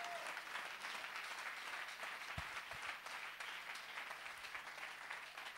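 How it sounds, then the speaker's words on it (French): A church congregation applauding the Holy Spirit during a French-language miracle service, a dense, steady wall of clapping from many hands throughout, with a few low thumps. "On acclame le Saint-Esprit."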